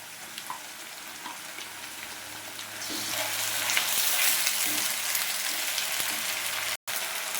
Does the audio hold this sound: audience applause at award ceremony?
no